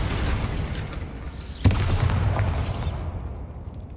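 A single heavy Bombarda explosion spell booms once in Hogwarts Legacy, sharp and close, with its low rumble fading over a dull background of game noise.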